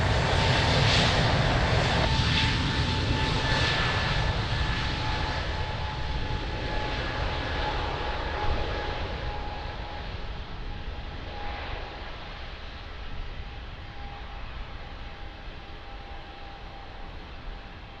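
An airliner on approach to land at Lisbon Airport, its engine roar broad and steady, loud at first and slowly fading as it passes, with a faint tonal whine running through it.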